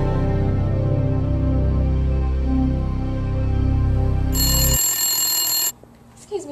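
Telephone ringing during a comedy sketch: a loud, steady electronic ring with bright harmonics starts partway through and holds for about a second and a half, following a stretch of low sustained music and talk.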